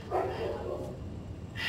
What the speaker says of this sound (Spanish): Gracias perro por ladrar.